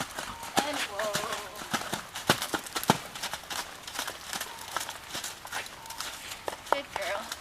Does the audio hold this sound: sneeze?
no